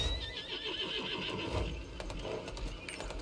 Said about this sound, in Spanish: pues vamos a coger el caballo.